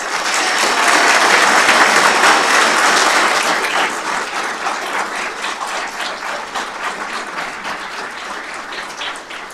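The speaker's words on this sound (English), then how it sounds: "Let's have another round of applause for all of tonight's award recipients." Sustained audience applause at an awards ceremony honoring award recipients, loud and dense at first, then gradually thinning and tapering over the clip with no one speaking.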